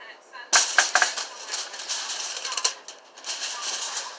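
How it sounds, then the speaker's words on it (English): A knife cuts a patty pan squash in half in a kitchen, giving a sharp first crack followed by crunchy, rasping slicing noises that continue loudly and close up. "What you do is you cut it in half."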